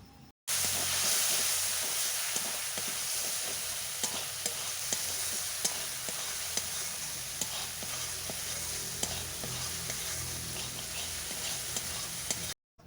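Ginger-garlic paste and spices with chili and turmeric powder, plus a splash of water, fry and get stirred in a pan for a village-style mushroom curry, giving a steady close sizzle with repeated scraping strokes throughout.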